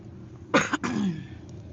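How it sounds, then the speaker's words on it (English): A short double cough close by, followed by a brief throat-clearing rasp, at a Tennessee beach, otherwise quiet. "Sorry about that coughing."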